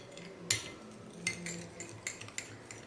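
A spoon stirs a herbal hair oil mixture in a bowl, giving a handful of quiet, irregular clinks and scrapes against the sides, close by and with no talking.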